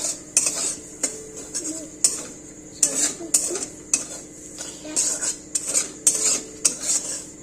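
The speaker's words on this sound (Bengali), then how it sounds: "আমার সুজিটা প্রায় ভাজা ভাজা হয়ে এসেছে।" A spoon scrapes and clinks against a pan in a regular rhythm as semolina is stirred and roasted dry. The sharp metal taps come close together, with only a faint fry underneath.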